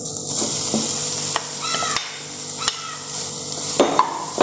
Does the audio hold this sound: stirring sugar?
yes